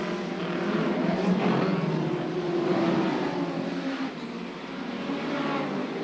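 Hot rod racing cars lapping the circuit at the 1978 Hot Rod World Final, engines droning and swelling as they pass at a distance, a continuous moderate roar without distinct individual passes.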